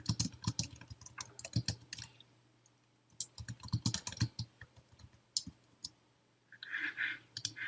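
Bursts of rapid keyboard typing with a few mouse clicks, entering title text in iMovie; close and clear, with pauses between runs of keystrokes and no talking.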